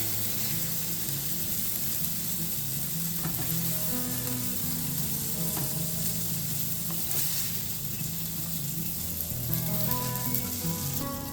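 Venison backstrap fries in a pan, giving a loud, continuous sizzle with scattered spitting crackles and no voices.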